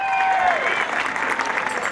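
A room of guests at a Big Brothers Big Sisters charity auction night breaks into dense applause right after a sale, steady clapping under a fading tone and some talk.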